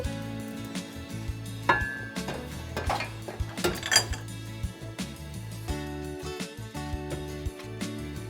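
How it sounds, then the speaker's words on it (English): Metal utensil clinks and taps against a bowl as fruit pizza ingredients, including flour, are mixed, scattered clinks over steady background music. "Now that is all the ingredients, so I'm going to mix it up this time"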